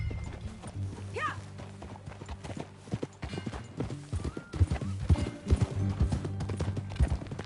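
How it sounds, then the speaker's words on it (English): Horse hooves clip-clop steadily in Red Dead Redemption II, the video game, with a brief whinny early on, a low hum, and the hoofbeats growing louder and more distinct toward the end. "That a new horse?"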